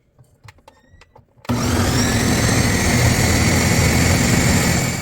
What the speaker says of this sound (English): transfer it to a blender and blend until smooth